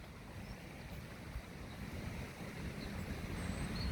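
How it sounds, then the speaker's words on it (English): A brook flowing through a forgotten valley in the Peak District, Derbyshire, heard as a faint, steady rushing wash from some distance below, with no voices over it. "So this is the brook itself down there."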